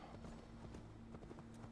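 Horse hooves clip-clop in a steady trotting rhythm in a video game, faint and continuous over low background sound.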